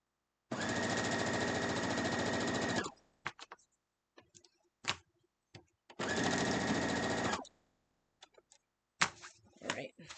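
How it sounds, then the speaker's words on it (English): Sewing machine stitching sashing onto a quilt top, two steady whirring runs of a few seconds each, close and loud, separated by quiet gaps with small clicks and handling of fabric. "but I'm just going to sew right down through there."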